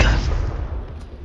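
A Confringo blasting spell fires in the Hogwarts Legacy video game, a single loud, booming burst that hits at once and rumbles away over about a second.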